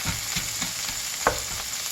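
Food sizzles and crackles steadily in a hot pan, with a few soft clicks of stirring or utensil taps, fairly quiet and without talk.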